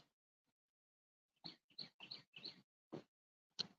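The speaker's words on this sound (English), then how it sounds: "Hear the nice birds out." Birds chirp outdoors at Lake City, Florida. A short run of about seven quick, faint calls sounds over near silence, spaced unevenly across a few seconds.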